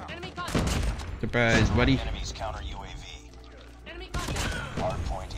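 Shotgun blasts from the KRM in Call of Duty Mobile boom out as loud, sharp bursts mixed with other gunfire and game effects, while a player talks over much of the action.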